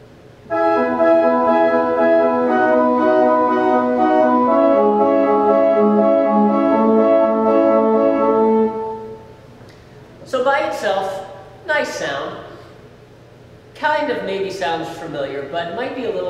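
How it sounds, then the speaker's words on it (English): A pipe organ sustains a series of full, held chords for about eight seconds, then someone talks; no pedal bass is heard. "First, I will play just the chords, and then I will add the pedal to it so you can see just how important that sound is."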